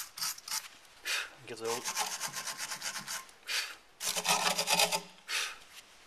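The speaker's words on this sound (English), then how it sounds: "Our next step is the wire brush." A wire brush scrubs around the brake hub of a VW Golf 1.9 TDI during a brake disc replacement, making close, loud, rhythmic scratching strokes in quick bursts with short pauses, and someone speaks briefly.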